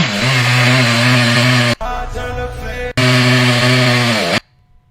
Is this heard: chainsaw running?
yes